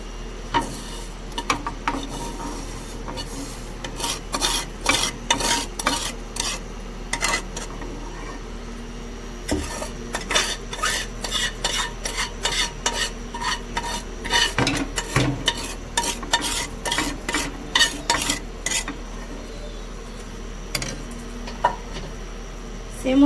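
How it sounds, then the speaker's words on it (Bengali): Semai vermicelli, fried in ghee beforehand, stirred into boiling milk in a pot: a steady run of spoon scrapes and clinks against the pan over a low simmering hiss, near and moderately loud, with no talk. "সেমই দুধের সাথে ভালোভাবে একবার নাড়িয়ে নেব।"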